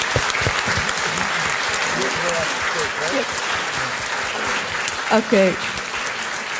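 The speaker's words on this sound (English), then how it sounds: "One big round of applause" Steady applause from a lecture audience fills the whole stretch, with a brief spoken word from a host near the end.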